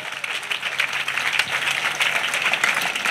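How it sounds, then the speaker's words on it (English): Steady applause from a church congregation at a healing and salvation gathering in Bingerville, dense clapping that holds evenly throughout with no voices over it. "Clap offering to Jesus."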